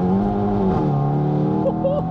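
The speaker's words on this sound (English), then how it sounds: "Those downshifts are hilarious." A Hyundai i30 N engine, stage 2 tuned to 400 bhp with a DCT gearbox, drones steadily, its pitch stepping as it revs through downshifts, with a voice talking over it.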